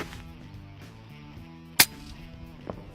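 A PCP airgun used for hunting outdoors fires one sharp, crisp crack that stands out against a faint, quiet background, followed by a much softer tap about a second later.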